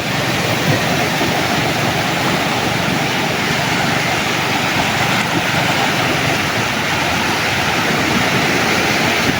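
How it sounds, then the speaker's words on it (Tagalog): Waves wash against the shore on a windy evening beside a fishing spot in Occidental Mindoro, a loud, continuous broadband rush of surf and wind that stays steady throughout. "Kaya lakas kasi ang amihan sa paggabi mga katropa. Kaya medyo maalon-alon sa dito sa amin sa tabi."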